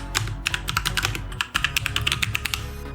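Rapid clicking keystrokes on a computer keyboard, close and crisp, in a continuous typing burst with a brief pause midway.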